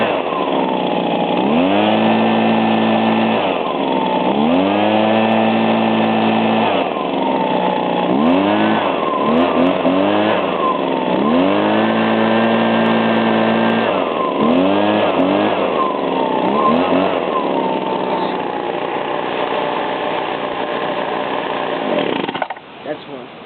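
An Echo GT 225 gas weed whacker revs again and again, its small two-stroke engine whining up to a high pitch and dropping back to idle in repeated bursts, loud and close, before cutting off near the end.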